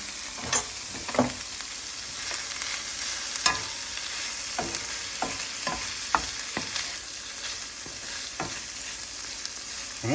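Cooked crawfish tails sizzling in a hot skillet, a steady bright frying hiss broken by repeated scraping clicks of a spoon stirring them, close up with no talking.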